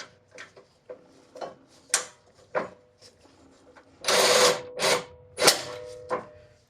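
Bolts being started by hand during engine work on a 2008 Acura MDX, with a string of short metallic clicks and taps spaced apart, then louder rasping ratchet-like bursts near the end, close up with no talk.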